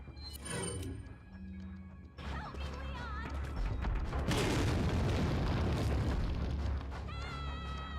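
Grenade explosion in Resident Evil 4: a short clatter, then a loud booming blast that swells into a long, roaring rumble with crashing debris, brief game sounds around it.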